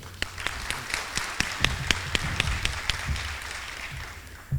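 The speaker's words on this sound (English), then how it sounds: "You could applaud that part" Audience at a first selectman debate in Waterford claps in a burst of applause, with sharp individual claps rising out of a steady patter that fades toward the end.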